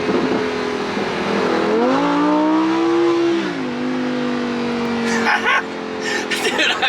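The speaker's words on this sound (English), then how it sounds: "A little backfire." A Lamborghini Huracan Evo engine drones loudly, swells in pitch and settles back, then lets out a short rapid crackle of backfire pops near the end.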